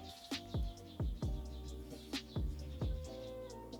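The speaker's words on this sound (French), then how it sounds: "il y a des oiseaux qui se battent en fait" Several sharp chirps and squawks in quick irregular bursts, fairly close, agitated and overlapping like birds squabbling.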